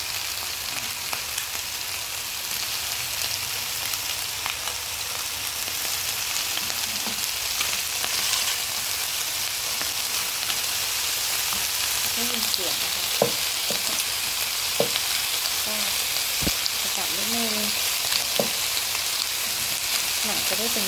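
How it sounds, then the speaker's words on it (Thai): Chicken wings fry in hot oil with a steady, dense sizzle throughout, broken by occasional sharp pops and spatters toward the end; no talking. "เราจะ ทอดแบบนี้ไปก่อนเนาะ"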